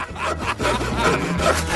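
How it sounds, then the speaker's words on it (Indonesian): A saw cuts back and forth into a piece of food, with rapid rasping strokes filling the short burst, close and loud. "Aku butuh gergaji."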